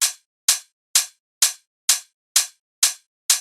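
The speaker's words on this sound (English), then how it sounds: "So those three hats together sound like this." Three bright, sizzling tech house hi-hats stacked together, sounding at an even pace about twice per second, each decaying quickly into silence.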